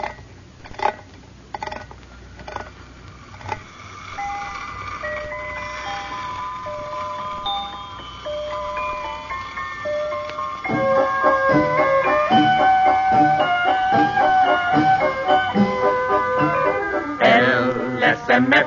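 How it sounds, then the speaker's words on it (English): A wind-up toy merry-go-round, released by a lever, spins and plays a tinkling music-box tune that starts sparse and grows fuller and louder, with clicks at the start and no voices. "First, you wind it up, and then you release the lever, and it spins around and plays music."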